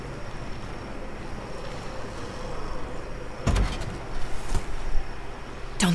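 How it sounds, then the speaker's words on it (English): A truck engine idles in neutral in The Walking Dead Season 3 video game, a low, steady rumble that runs throughout, with a couple of brief clunks near the middle and at the end. "Don't think those guys will be able to hear the engine all the way over here."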